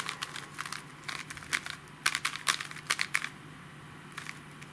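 Quick plastic clicks and clacks of a 5x5 Rubik's cube being twisted, rapid bursts of turns close by, then a brief pause and a few more clicks.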